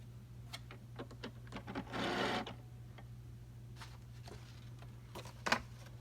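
A sewing machine stitches paper pieces onto a junk journal in quiet short bursts of rapid needle chatter, with a longer whirring run in the middle and a low steady motor hum beneath.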